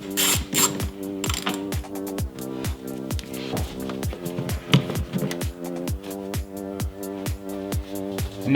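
Socket ratchet clicking steadily while loosening small 8 mm bolts on a BMW N52 inline-six engine, a close, rapid rhythm of pawl clicks repeating throughout with brief pauses between strokes.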